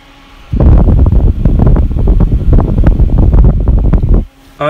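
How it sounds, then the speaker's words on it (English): An EVGA FX12 120mm computer fan running at 2400 RPM gives a close, loud, rushing airflow whoosh that starts abruptly, holds steady for about four seconds, then cuts off. "it's actually quite a quiet fan for 2400 RPM"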